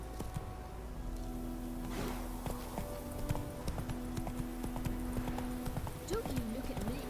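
A horse in The Witcher 3 gallops with rapid, steady hoofbeats throughout, close and clear over game ambience, while a voice speaks briefly.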